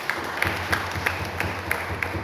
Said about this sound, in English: I would like you to give a round of applause to our keynote speaker